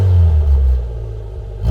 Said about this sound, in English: have a listen to what the exhaust sounds like